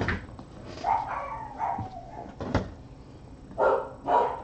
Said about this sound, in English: Pooches are barking.